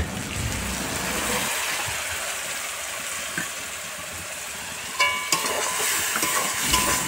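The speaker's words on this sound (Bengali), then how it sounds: "এরপরে আমরা কিছুক্ষণ নাড়তে থাকব, মশলাটা হয়ে আসবে" Turmeric paste with a little water fries for a country chicken curry, giving a soft continuous sizzle up close, with a few sharper utensil scrapes and clinks toward the end.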